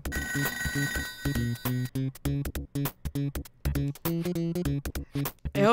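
Telephone ringing in Toejam & Earl, a chirpy, stuttering electronic ring layered over bouncy game music, with choppy bursts of sound repeating loudly and steadily.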